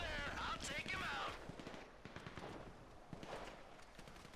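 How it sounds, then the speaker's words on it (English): Sniper fire rings out during a heist shootout in Grand Theft Auto V, with a couple of sharp cracks and rattling bursts up front, then scattered quieter shots and action noise as the firing continues. "Sniper fire!"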